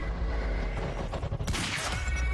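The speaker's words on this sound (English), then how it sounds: "Grenades." Combat in the video game Quantum Break with gunfire and grenade explosions, a dense, loud burst of shots and booms that swells midway and runs throughout without talk.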